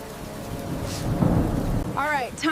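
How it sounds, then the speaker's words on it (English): A thunderstorm rolling in over a campsite, with steady rain and a deep, swelling rumble of thunder, then brief chirping calls near the end. "storm is rolling in faster than anticipated."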